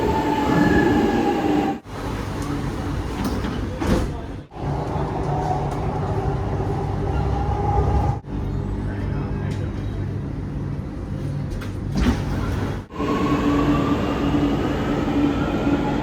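A Chennai Metro train rolls toward Koyambedu, a loud continuous rumble of wheels on rails with rising and falling whines and brief drops in level, while someone talks over it.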